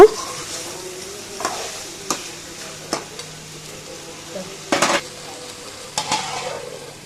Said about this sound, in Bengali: ভালো করে নেড়ে চেড়ে কষিয়ে নিব যতক্ষণ পর্যন্ত তেল উপরে উঠে আসবে না